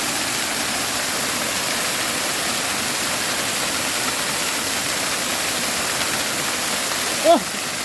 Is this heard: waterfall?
yes